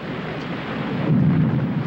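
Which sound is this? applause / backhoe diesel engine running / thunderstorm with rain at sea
thunderstorm with rain at sea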